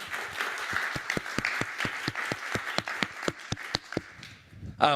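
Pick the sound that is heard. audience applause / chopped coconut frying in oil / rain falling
audience applause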